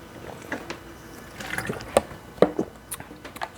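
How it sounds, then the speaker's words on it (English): Someone drinks water mid-conversation, with faint liquid sounds and small sips or gulps in short bursts against a quiet indoor background. "Let me just drink some water."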